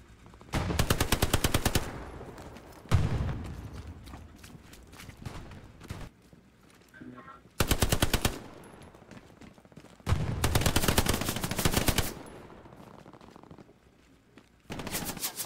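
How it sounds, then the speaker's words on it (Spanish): Bursts of gunfire in the WWII shooter game Hell Let Loose, coming from beyond a wall: several loud rapid automatic volleys separated by quieter pauses with scattered single shots, no talking. "Escucha algo aquí, Están disparando del otro lado del muro"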